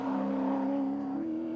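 A Holden Commodore V8 touring car climbs Mount Panorama at Bathurst, its engine note holding a steady, strong tone and then stepping higher as the revs rise, heard alone and fairly close.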